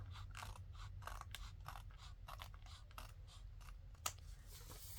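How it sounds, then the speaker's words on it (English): Scissors snip through a paper envelope in a quiet room, a series of soft, rhythmic crisp cuts with one sharper snap near the end. "Trying not to cut my flap, my envelope."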